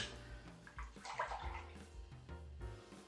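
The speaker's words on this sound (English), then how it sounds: "just run it under water" Water runs and splashes from a tap as a Wilkinson Sword razor blade is rinsed beneath it, close by and fairly quiet, with uneven sloshing surges.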